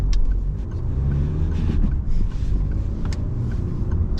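A 2018 Peugeot 308 1.5 HDi 130 Allure diesel engine hums steadily from inside the car, a low, constant rumble with faint road noise and no voices.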